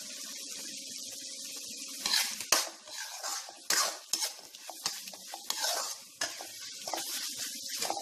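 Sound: pav bhaji vegetables frying in pan

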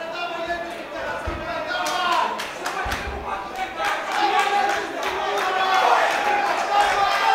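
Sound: crowd cheering at Muay Thai fight

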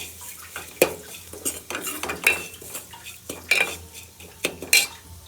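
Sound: stirring spice powder into a pot of rasam

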